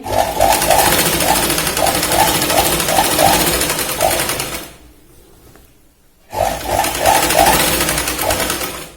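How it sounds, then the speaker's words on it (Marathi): A sewing machine runs fast and steady, stitching a boat neck kurti. It stops for about a second and a half, then starts up again with the same close, even whirring. "परत आपण डबल शोल्डर पर्यंत डबल शिलाई लावून घ्यायची"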